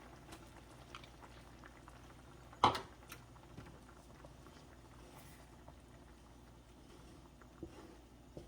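Creamy sausage pasta sauce bubbles and sizzles quietly in a pan while being stirred, a soft steady simmering hiss with one sharp clink of a utensil partway through and occasional faint taps, no talking.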